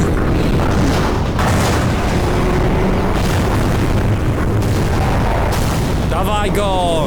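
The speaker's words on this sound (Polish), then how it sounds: "Wybuch jest przy twojej twarzy" Dense, continuous booming explosion blasts in an animated Skibidi Toilet episode rumble loudly throughout, with a brief whooshing, warbling effect near the end.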